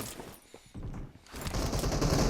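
Rapid automatic rifle fire in PUBG, a loud close burst that breaks briefly, then resumes as a sustained volley of shots.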